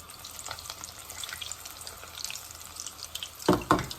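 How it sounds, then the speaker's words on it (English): Falafel fry in hot oil with a continuous crackling sizzle, small pops throughout and a couple of louder scraping stirs near the end. "Let the oil get coated, everywhere, so they get fried"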